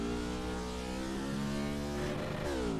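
A race car engine in the video game Project Cars revs high and holds near its limit, a loud, continuous harmonic whine that climbs slightly toward the end, with no talking.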